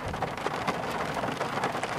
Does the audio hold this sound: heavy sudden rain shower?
yes